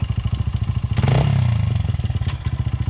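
A Honda CRF80F dirt bike engine idles close by with a rapid, even putter, then briefly revs up and settles back to idle, with a light metallic clatter over the steady running.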